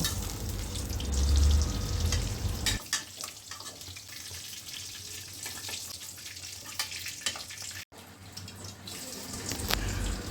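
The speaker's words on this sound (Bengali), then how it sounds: "এপিট ওপিট করে উল্টে পাল্টে নেড়ে চেড়ে একটু লাল লাল করে সুন্দর করে ভেজে নিব সবগুলো পটল" Slices of pointed gourd fry in oil in a pan, a busy sizzle and crackle of moderate loudness, with clatter of turning and stirring over it and a brief dropout near the end.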